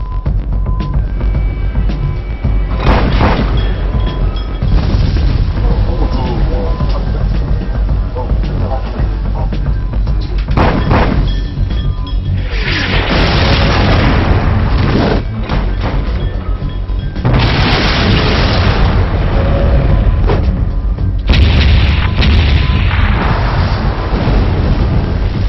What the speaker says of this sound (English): The shells explode beside the target, spraying it with shrapnel.